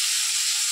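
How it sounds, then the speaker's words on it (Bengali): Fish frying in a pan, a steady close broadband sizzle and hiss with no pauses or voices. "তো বন্ধুরা চলো মাছগুলো ভেজে নিই।"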